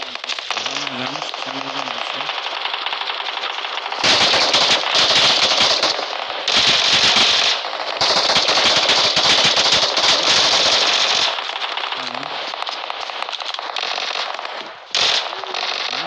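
Rapid gunfire in an online team shooter video game, loud bursts of automatic fire in several long volleys separated by short pauses, close and dominant, with brief voice sounds between the bursts.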